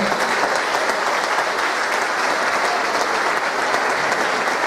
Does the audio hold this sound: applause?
yes